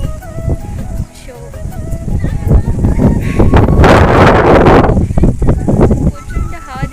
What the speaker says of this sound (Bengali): প্রচণ্ড হাওয়া দিচ্ছে, দেখে তোমরা বুঝতেই পারছো আজকে ওয়েদারটা কত।